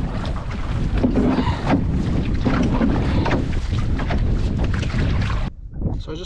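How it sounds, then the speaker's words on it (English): Wind buffets the microphone while a strip canoe moves across a pond, with water sloshing and paddle strokes under a loud, steady rush that drops off abruptly near the end. "So I just paddled up to the long side of the pond here"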